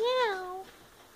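A tiny sleepy kitten gives a single clear, high meow that bends up then drops and fades, close and fairly loud, followed by quiet room tone.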